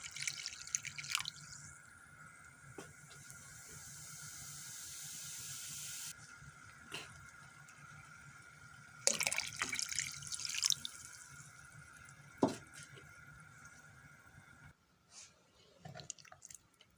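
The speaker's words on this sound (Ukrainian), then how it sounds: "Ну, і зараз додаю оцет." Vinegar pours into a marinade for silver carp, with a thin trickling stream and scattered drips and clinks, quiet and close with no talk.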